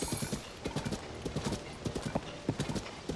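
Hooves thud in a steady trotting clip-clop as a horse moves along in Zelda: Tears of the Kingdom; the beats are fairly faint and evenly spaced over a light background hum.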